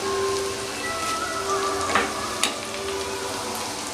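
Garlic and ginger sizzle in hot oil in a pan while dal is being cooked. The crackling is steady and fairly quiet, with a couple of sharper pops, and no talk.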